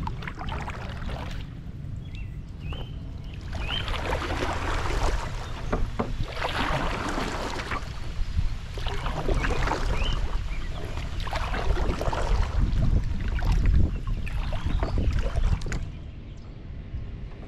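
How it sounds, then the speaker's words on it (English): Canoe or kayak paddle strokes on a city pond during a litter cleanup, rhythmic splashing and water swishing close by with light wind buffeting the microphone and no talking. "We paddled the perimeter, picking up garbage that we found."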